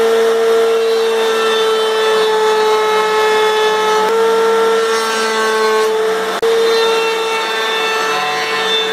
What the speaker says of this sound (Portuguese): passei todas as peças na minha tupia de bancada improvisada, para arredondar as quinas